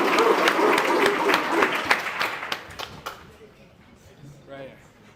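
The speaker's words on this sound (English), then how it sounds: "So clap it up!" Audience clapping at a party convention, dense and loud at first, then thinning and fading over the last couple of seconds as a voice begins under the tail.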